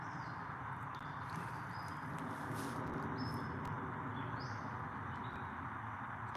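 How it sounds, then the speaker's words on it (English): Birds sing outdoors: scattered faint chirps and short whistled calls drift at a distance over a steady, quiet background hiss. "Birds are going."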